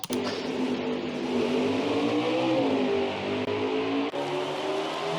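Race car engines in the video game NASCAR Heat 5 hold a steady, loud drone that swells and dips slightly as the revs shift, with a brief break in the tone near the four-second mark.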